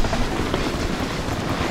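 A long passenger train rumbles past nearby, a dense rolling roar with faint rhythmic clatter from the cars.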